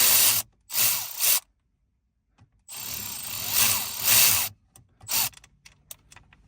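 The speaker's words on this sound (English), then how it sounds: "So I'm gonna pop these 3 screws out." A power driver backs out three screws from the ignition switch of a 2005 Jeep Grand Cherokee, coming in close, loud bursts of whirring separated by silences, with a few small clicks and taps near the end.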